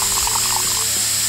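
Liquid is poured into a container while chemicals are mixed, a steady watery trickle with a faint gurgle over a constant background hum, and no one speaks.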